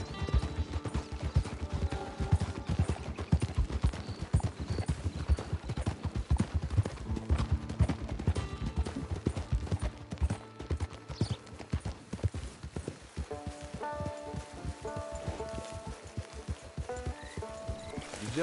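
Rapid, rhythmic hoofbeats of a horse in the video game Red Dead Redemption 2 clip-clopping continuously at a steady pace, close and clear, with a brief whinny-like sound and faint background tones.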